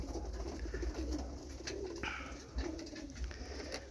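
Roller pigeons cooing softly from a loft, steady low coos under constant outdoor background noise, no talking.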